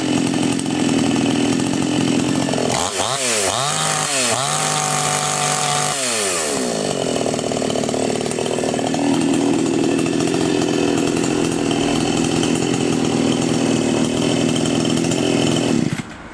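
A Champion chainsaw, just after carburetor adjustment, is pulled and restarts, its engine revving briefly and dropping before settling into a loud, steady high-pitched run that continues to the end.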